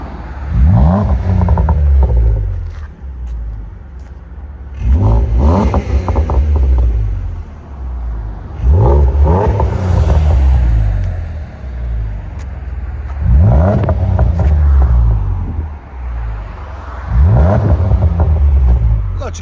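A 2016 Lincoln MKZ with a 3.7L V6, X-pipe and Magnaflow exhaust revs five times, each rise swelling into a loud, raspy roar before dropping back to a rumbling idle, with voices in between.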